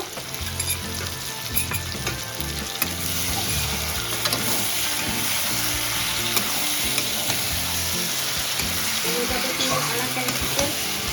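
Ground cumin fries in hot oil in a pan for a Bengali rohu fish curry with cauliflower and potato, a continuous loud sizzle with frequent stirring scrapes and clinks running the whole time.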